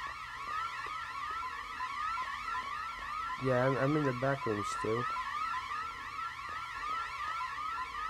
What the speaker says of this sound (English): How do I lock off the alarm?